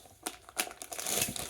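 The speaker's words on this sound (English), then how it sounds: "I like this plastic bag." Thick plastic bag crinkling as it is handled during an unboxing, crisp close rustles in short bursts building to a steady crackle.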